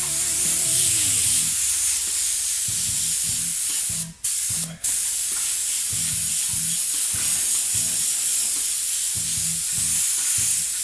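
Spray paint hisses steadily over a stencil, a long continuous aerosol spray with two brief pauses and a faint rattling, knocking pattern underneath.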